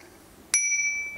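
A mountain bike's small handlebar bell, unboxed with a Polygon Vander T7, gives one bright ding that rings on and slowly fades, with a second faint strike at the very end.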